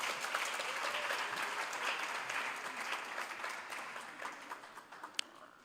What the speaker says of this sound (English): Can we just have another round of applause?